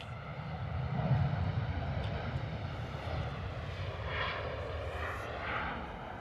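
A Jet2 airliner takes off from London Stansted runway 04 in the evening, a steady distant jet roar that swells slightly and then holds, fairly faint, with no voices over it.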